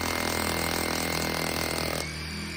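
Rotary hammer with a core cup drilling into asphalt, a loud continuous grinding, rattling roar that holds steady before cutting off abruptly near the end.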